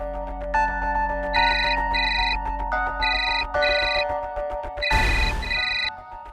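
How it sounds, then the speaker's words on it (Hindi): Phone ringtone on an outgoing call that goes unanswered, a repeating electronic melody in steady bursts, loud and close, with a brief rustling noise near the end and no talk. "देखो रिंग जा रही है, उठा नहीं रही है।"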